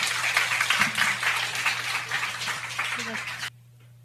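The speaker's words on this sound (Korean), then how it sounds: "박수로 환영하겠습니다" An audience claps in welcome at a church service, a steady burst of applause from a crowd that runs for several seconds before cutting off abruptly.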